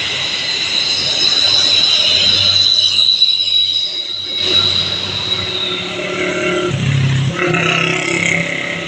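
A Putra Pelangi passenger train rolls past on the East Sumatra line, its wheels squealing and rumbling loudly and steadily up close for the whole stretch.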